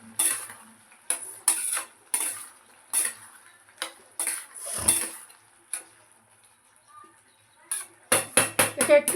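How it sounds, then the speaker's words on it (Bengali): Fried pointed gourd is tipped into a pan with Gobindobhog rice and stirred, producing irregular close metallic clinks and scrapes of a spoon, quiet gaps between them, then a quick burst of taps at the end. "পটল ভাজাগুলো দিয়ে দেবো"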